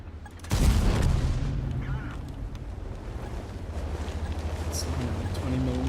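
A 20mm tank gun fires in World of Tanks: one sharp, loud report followed by a rumbling tail and steady engine and battle noise.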